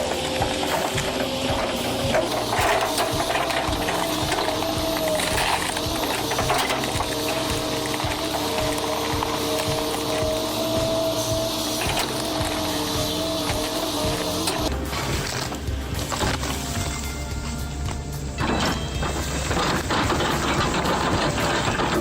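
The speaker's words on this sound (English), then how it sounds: "The roar of the engine and the sight of stubborn logs being split in the blink of an eye" A log splitting machine's engine roars steadily while stubborn logs are split into firewood, a loud continuous mechanical drone with clanks and hydraulic strain throughout.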